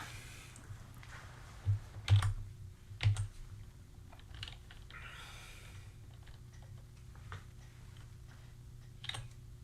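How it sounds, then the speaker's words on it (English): Sparse clicks on a computer keyboard while someone works on a tile-swapping puzzle program, including a few louder, heavier key strikes like repeated Enter presses early on, then scattered lighter taps over a low steady hum. "hit enter a bunch of times and close the region."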